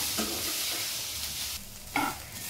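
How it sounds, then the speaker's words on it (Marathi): Chopped onions frying in a pan until browned, a steady close sizzle with a few stirring scrapes and a louder burst of spatter near the end. "लालसर करून घ्यायचं आपल्याला कांद्याला"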